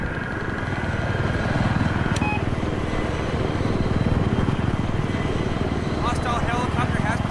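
A helicopter in a multiplayer shooter game flies past, its steady rotor and engine drone loud and continuous throughout, with players talking over it.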